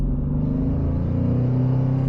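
A 2022 Dodge Challenger Scat Pack's engine holding a loud, steady low rumble at raised revs close by, with a slight lift in pitch partway through.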